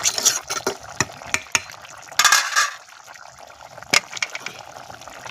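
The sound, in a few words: stirring food in a cooking pot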